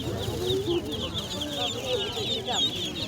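Chickens cluck repeatedly at a busy open-air market, close and fairly loud, while people talk nearby and general crowd noise fills the background.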